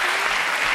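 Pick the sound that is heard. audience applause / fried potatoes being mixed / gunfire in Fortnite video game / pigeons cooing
audience applause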